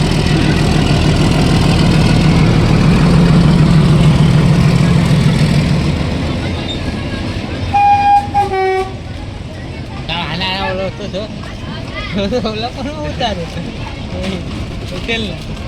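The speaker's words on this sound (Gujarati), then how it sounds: "અહીંયા બીજી ટ્રેન હવે આવે તમે જોઈ શકો છો" A train arrives with a deep engine rumble that fades after a few seconds, followed by short horn toots, while people talk over it nearby.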